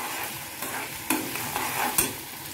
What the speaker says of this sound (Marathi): कांदा मस्त परतून घ्यायचे, खरपूस असं भाजून घ्यायचंय।